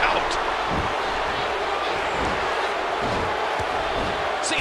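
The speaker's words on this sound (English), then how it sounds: "listen to this crowd" Roaring arena crowd in the wrestling video game WWE 2K14, a constant loud wash of cheering with faint thuds and slams beneath it.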